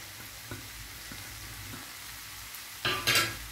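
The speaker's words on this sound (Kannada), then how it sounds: "ನಾನೀಗ ಗ್ಯಾಸ್ ಅನ್ನು ಹೈ ಫ್ಲೇಮ್ ಮಾಡಿ ಪನ್ನೀರ್ ಹಾಕ್ತೇನೆ ಗ್ರೇಟ್ ಮಾಡಿದ ಪನ್ನೀರ್ ಉಂಟಲ್ಲ ಅದನ್ನೆಲ್ಲ ಹಾಕ್ತೇನೆ ಈಗ" Grated paneer fries in a pan over a high gas flame with a soft, steady sizzle and a couple of louder scraping bursts near the end.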